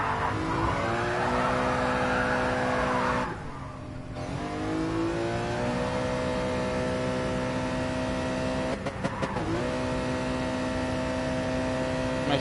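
A sports car with an active exhaust revs loudly and continuously, its roar rising in pitch, briefly dropping around gear changes, then climbing again.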